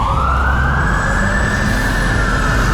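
An emergency vehicle siren on a Toronto street wails loud and close, a rising sustained tone over heavy traffic rumble, with no talk.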